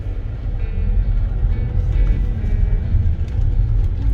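A supercharged 2013-2017 Range Rover rolls over road bumps, heard from inside the cabin as a steady loud low rumble with dull thuds and body creaks throughout.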